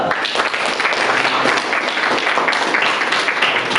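Students in a classroom give steady applause, a dense close wash of many hands clapping continuously for a few seconds without talk.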